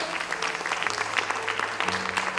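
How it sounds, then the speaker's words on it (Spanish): Applause from an audience welcoming a guest speaker to a church event on fasting, a dense continuous clapping that holds steady throughout. "Les pido que le recibamos con un fuerte aplauso."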